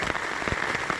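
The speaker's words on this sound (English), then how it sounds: "it's raining pretty hard now." Steady, dense patter of hard rain at night in Killarney Provincial Park, a broad continuous hiss with scattered heavier drops, close by and with no voices.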